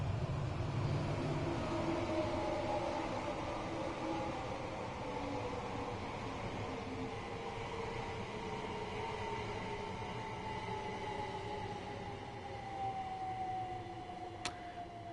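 A train pulls through Gatwick station in Train Sim World 4, a quiet rolling rumble with a steady electric motor whine gliding slowly downward in pitch, and a brief high tone near the end.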